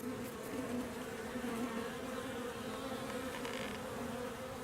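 Honeybees swarm around an opened beehive, going after leftover honey, a steady, faint, droning buzz of many insects close to the microphone.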